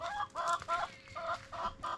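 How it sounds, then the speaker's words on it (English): A young hen clucks close by in repeated short, throaty bursts, about six clucks in quick rhythmic succession. "that is my little baby rooster"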